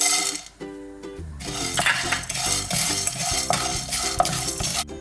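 Black pepper, coriander, cumin and fennel dry-roasted in a pan without oil: a spatula scrapes and clinks against the metal in repeated strokes over a soft roasting hiss, with a tonal musical bed at the start.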